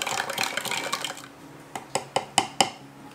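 A spoon stirring yeast and sugar into warm water in a bowl for mini pizza dough, brisk clinking against the bowl followed by a handful of sharp separate taps, close and alone.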